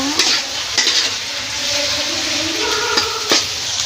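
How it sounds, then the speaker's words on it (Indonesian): Clams frying with green and red chillies and a little sugar, stirred in a pan under a loud, constant sizzle with scraping strokes and a few sharp clinks of the utensil. "kemudian kita masukkan cabai hijau dan cabai merah. Jangan lupa sedikit gulanya ya tuh. Kita aduk hingga merata."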